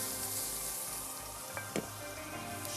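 Masala pasta being stirred with black pepper, garam masala and salt in a hot pan, a continuous soft sizzle with faint scraping and a couple of brief clinks.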